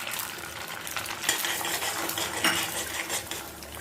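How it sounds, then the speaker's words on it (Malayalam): An egg is poured into hot coconut oil in a pan and sizzles with a steady crackle, joined by a few utensil clinks against the pan, close and fairly quiet. "അതിലേക്ക് നമുക്ക് ആദ്യം ഈ മുട്ട ഒഴിച്ചു കൊടുക്കാം."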